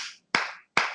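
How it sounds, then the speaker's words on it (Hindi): Sharp hand claps, three in quick succession about a third of a second apart, close and clear with no voice over them. "ये मेरी ताली की आवाज है, ये भी ध्वनि है।"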